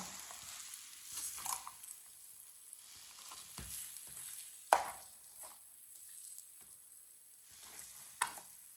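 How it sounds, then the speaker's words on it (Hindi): Carrot halwa cooking in a pan, a soft sizzle under intermittent scraping and stirring strokes, with a few sharper knocks of the spoon against the pan, close and fairly quiet. "इसे 2 मिनट के लिए दोबारा पका लेते हैं अच्छी तरह मिक्स करके।"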